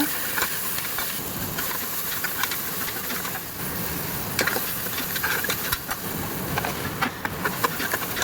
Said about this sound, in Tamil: வெங்காயம் தக்காளி ஒன்று ஒன்றா வதக்கிக்கலாம்.